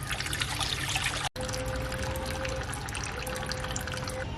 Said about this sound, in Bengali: ফের মাছটাকে আমি আর একবার ধুয়ে নেব